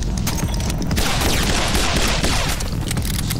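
Gunshots fired at an enemy in My Friend Pedro, a dense, loud continuous barrage of gunfire layered with game sound effects, heard without talk.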